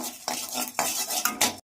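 Cardamom, cinnamon, cloves and dried chillies are stirred dry in a wok, giving several scraping, rattling strokes of a utensil against the pan in quick bursts before stopping abruptly. No one speaks.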